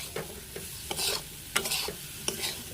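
Cauliflower curry stirred and sautéed in a pan, several quick scraping stirs with soft sizzling between them, close and fairly quiet.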